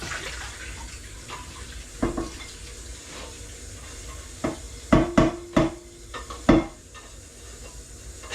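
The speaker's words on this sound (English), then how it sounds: "Just washing out this pot." Water runs into a sink while a pot is washed out, a steady low rush punctuated by several close, hollow knocks and clatters of the pot against the basin toward the end.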